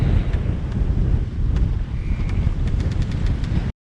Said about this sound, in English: So out here it is chilly and windy.